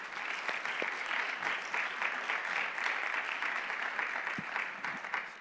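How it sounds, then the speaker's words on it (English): An audience at a leadership event gives a round of applause, a steady, moderately distant wash of many hands clapping that holds even throughout and thins slightly at the very end. "how about an initial round of applause for Jessica and Logan?"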